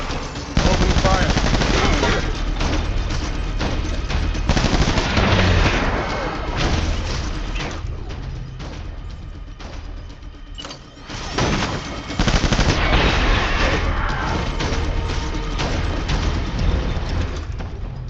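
Sustained video game gunfire in Death Stranding: dense, loud bursts of automatic shots and crashing impacts run nearly throughout, with one brief lull midway before the firing resumes at full intensity.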